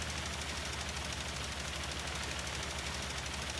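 Steady tractor engine from the Farming Simulator 19 video game, a continuous close idle with a fast, even low pulse and broad mechanical noise, loud and unbroken throughout.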